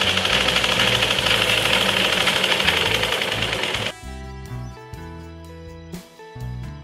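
A sewing machine stitches clothes with a steady, fast mechanical whirr for several seconds, then stops abruptly, leaving quieter tonal, music-like sounds.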